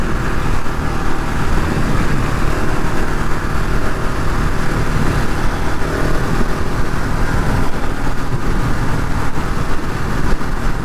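KTM 690 Enduro R single-cylinder motorcycle being ridden in rough conditions, a loud, steady engine drone with constant wind rush throughout, no clear changes in pace.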